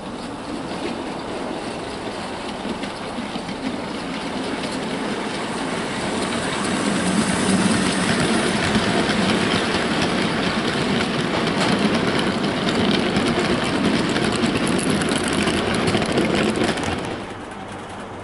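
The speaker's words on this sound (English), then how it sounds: "now we've got the Andrew Barclays running round with the mineral wagons" Model Andrew Barclay 0-4-0ST saddle tank locomotives haul a rake of fifteen mineral wagons round a model railway, giving a steady rolling rumble and clatter that swells as the train passes near, then fades slightly.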